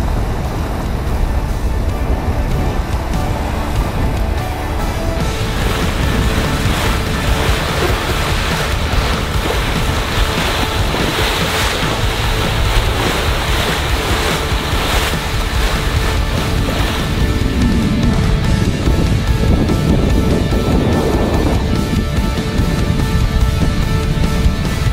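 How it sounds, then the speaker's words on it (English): A sailboat runs under wind with waves rushing and splashing along the hull, a constant loud wash of water and wind noise that swells and surges throughout. "Some wing on wing sailing now"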